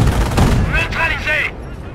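Combat gunfire in Company of Heroes, WWII battle near Oosterbeek: a dense burst of shots and booms that gives way to a short voiced radio-style call, then fades.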